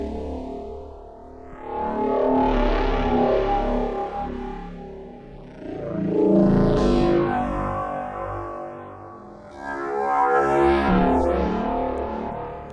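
Vhikk synth voice run through a Xaoc Belgrad filter with modulated frequency modulation, three swelling, sweeping drones with shifting metallic, chorused timbres and gaps between, heard alone.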